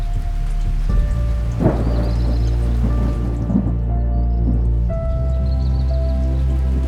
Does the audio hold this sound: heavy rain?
yes